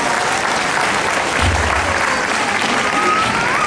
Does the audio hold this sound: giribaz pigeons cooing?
no